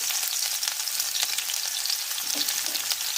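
Chopped onion fries in hot oil, giving a close, constant sizzle and crackle with faint stirring.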